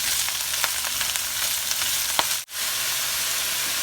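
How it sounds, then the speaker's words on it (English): Beet greens saute in a hot pan with a steady, close hiss and crackle and a few stirring scrapes, ending in a brief dropout before the sizzle resumes, with no voices. "I'm going to add the beet greens. Put them all in there."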